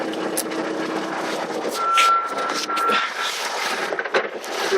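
A steady string of high, evenly spaced reversing beeps rings out over the rumble of a 2.5 ton truck engine and a loud, gusty outdoor background.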